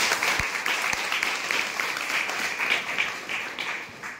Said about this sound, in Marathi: आपण सगळ्यांनी आणि आलेले आपले मान्यवर साहेब सगळ्यांनी त्यांच्यासाठी एक जोरदार टाळ्या केलेल्या पाहिजे